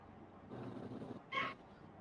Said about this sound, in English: that almost sounded like a dog barking